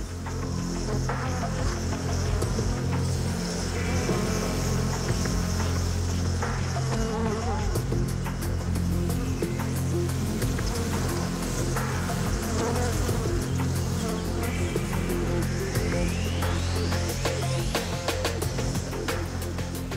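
Dense, steady buzzing of many honeybees swarming close by at their hive, a continuous droning hum with individual wingbeats flickering through it.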